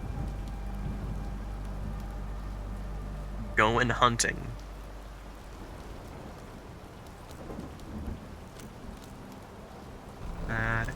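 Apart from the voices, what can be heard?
rain and thunder in In Sound Mind video game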